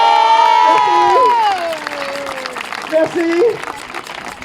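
An audience applauds and cheers for Zanzibar the juggler after his ladder stunt, with a burst of clapping rising beneath and after a performer's brief spoken thanks, then tapering off.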